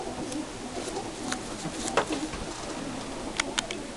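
Birmingham roller pigeons coo softly in a loft, with low murmuring calls and a few brief flutters and clicks against steady background noise.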